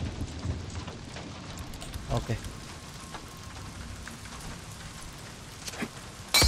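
Rain falls steadily in the video game Days Gone, a continuous wash of droplets with a few sharper thumps, while someone speaks briefly over it.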